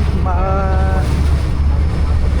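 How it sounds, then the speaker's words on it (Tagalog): Rough sea waves wash and roar continuously near Tagban Port on the way to Boracay, with heavy wind noise buffeting the microphone and a brief tonal whistle early on. "Maalon po ngayong araw na to."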